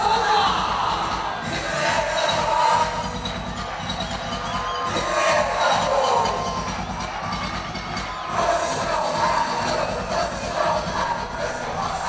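A stadium crowd at a tennis exhibition match cheers and whoops loudly, with shouting voices rising and falling in waves over a constant rumble of chatter.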